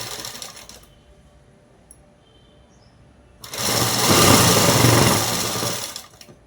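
Electric sewing machine stitching cloth for a cut-style top, a steady close-up mechanical whir running for about three seconds after a quiet stretch and brief earlier run, no talking.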